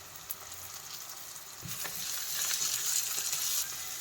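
Mint and salt are sautéed with onions in a pan for tomato rice, giving a soft, steady frying sizzle. The sizzle swells louder partway through, with faint stirring clicks.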